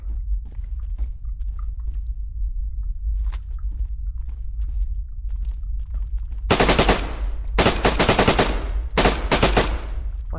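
Gunfire in the survival video game DayZ: after several seconds of quiet movement and light footsteps, loud bursts of rapid automatic fire break out in the latter half, close and dominant.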